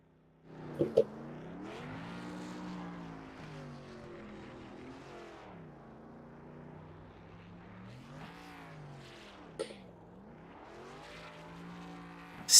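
A race car does a burnout after a BRRA Cup Series race at Portland International Raceway, its engine holding a steady, rising and falling roar for several seconds, heard at a moderate distance with no talk.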